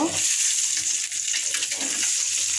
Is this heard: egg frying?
yes